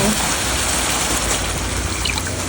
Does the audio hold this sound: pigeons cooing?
no